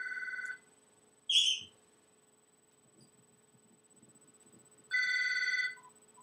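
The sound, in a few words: phone ringing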